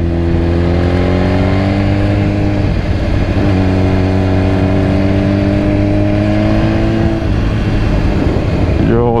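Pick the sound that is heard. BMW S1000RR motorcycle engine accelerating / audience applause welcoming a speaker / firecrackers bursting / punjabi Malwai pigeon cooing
BMW S1000RR motorcycle engine accelerating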